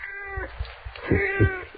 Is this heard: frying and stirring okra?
no